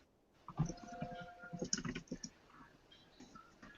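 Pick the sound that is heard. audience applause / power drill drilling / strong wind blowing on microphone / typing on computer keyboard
typing on computer keyboard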